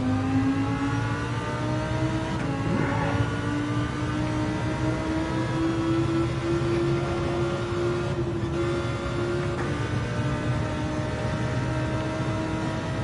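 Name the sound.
race car engine revving and downshifting in a racing video game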